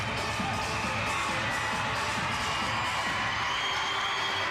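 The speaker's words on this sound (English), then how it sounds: "Time to crank up the crowd a little bit." Crowd at a minor-league basketball game, the Saint John Mill Rats hosting the Montreal Jazz, cheering and shouting in a steady, dense roar of voices with scattered whoops throughout.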